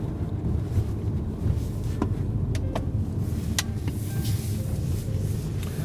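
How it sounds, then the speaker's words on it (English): A 2019 Mercedes A-Class moving through city-centre streets, with a steady low engine and road rumble throughout and a few faint clicks and interior sounds over it. "I'm just going to enter the city center to show you how this car drives in like a smaller streets."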